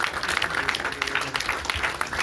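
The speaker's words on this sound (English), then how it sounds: "So a big round of applause for Steve." An audience at a Q&A event gives a round of applause for Steve Carroll of Stonecutter; many hands clap densely and continuously, fairly close and full, with no break.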